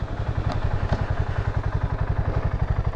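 A BSA Gold Star 650 cc single-cylinder engine thumps in a steady rapid pulse while the motorcycle is ridden, with a low, even throb and some wind noise.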